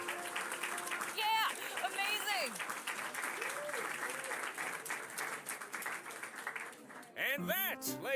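A theater audience in the western adventure game Rosewater bursts into loud, sustained applause, with excited voices cheering over the clapping.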